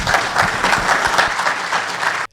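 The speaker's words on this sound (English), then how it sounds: "the crowd goes wild" An audience applauds after a talk on pavement preservation, a loud, dense clapping that holds steady for about two seconds and then cuts off abruptly.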